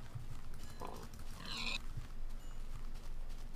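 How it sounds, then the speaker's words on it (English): Pigs in the Minecraft video game give a couple of short oinking grunts over a quiet game soundscape, with a brief squeal-like burst in the middle. "Don't need to massacre all these pigs,"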